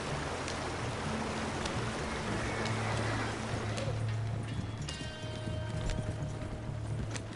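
Horse hooves clip-clopping at a steady walking rhythm in the western game Red Dead Online, fairly faint, with a low ambient hum and water-like background beneath.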